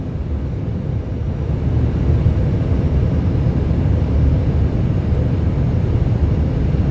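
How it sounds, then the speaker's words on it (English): A plane approaching an airport in Armenia for landing gives a steady, loud low roar of engine and wind noise that holds constant throughout with no voices. "This plane was approaching an airport in Armenia when they hit a bird."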